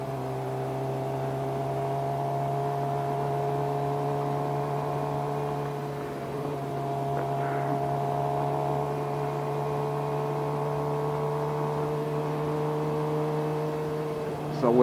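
Steady engine drone from a Suzuki GSXR motorcycle riding on the road after an upshift into second gear, with a constant low hum and layered harmonics holding nearly level throughout, close and continuous, no talk.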